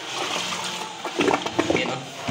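Small trickle of water from an opened tap at a house under construction, a soft continuous rush with a few splashy spatters near the end, heard close up.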